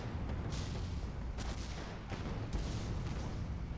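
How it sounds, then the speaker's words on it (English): Sustained rapid Gatling gun fire aboard an airship in the Guns of Icarus game, a dense continuous rattle of distant shots with heavier booms mixed in, steady and loud throughout. "That's a lot of Gatling fire on the Pyramidion."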